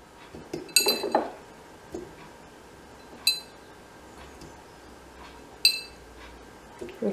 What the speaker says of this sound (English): we're going to first start by adding in some cut oranges, sliced oranges